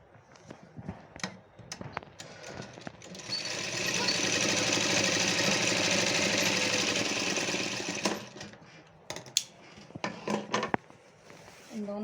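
An electric sewing machine stitches two fabric strips of a can-can skirt together, a steady rapid mechanical whir running for about four seconds, framed by clicks and handling noises before and after.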